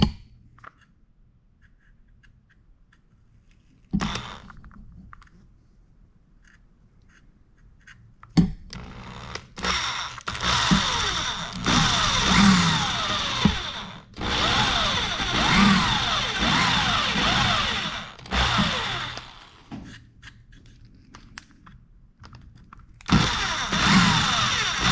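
A bit drills out the line-tie eye socket on both sides of a cedar wood throughwire crankbait, with a buzzing motor whine running in bursts of several seconds between quiet pauses, loud and close.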